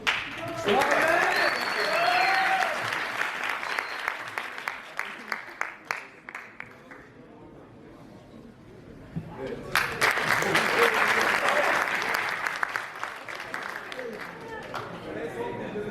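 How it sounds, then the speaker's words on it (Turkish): A crowd applauds wrestlers at a Turkmenistan cultural showcase in Bursa, with loud dense clapping that fades in the middle, then swells again with sharp individual claps, while a voice carries over the noise. "Pehlivanlarımızı bir kere daha alkışlarınızı alabilir miyiz?"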